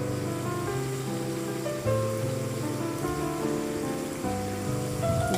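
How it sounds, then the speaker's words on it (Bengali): Small baby samosas fry in a pan of hot oil, giving a steady, dense sizzle that runs the whole time under background music with sustained tones. "এবার আমি ভেজে নেব।"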